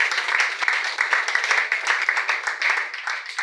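A church congregation claps together in sustained, lively applause, a dense and steady wash of many hands close and loud throughout, with no voices standing out above it.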